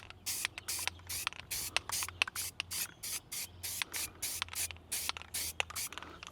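Aerosol spray paint hissing onto car rims in a rapid series of short, sharp bursts, roughly twenty quick sprays with brief gaps between them, close and fairly loud with no talking.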